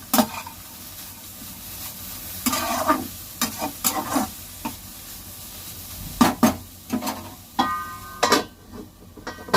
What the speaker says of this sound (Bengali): চিচিঙ্গাটাকে আটকে নেড়ে দেবো,